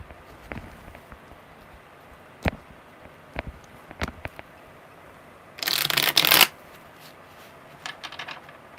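A brief burst of tarot card shuffling, a dense riffling rush lasting about a second, with a few soft taps and handling clicks around it in a quiet room.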